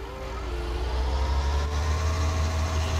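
A tractor in Farming Simulator 19 pulls an RF180 knife roller implement. Its engine drones in a steady, fairly loud hum that builds slightly as it works under load, and no one speaks.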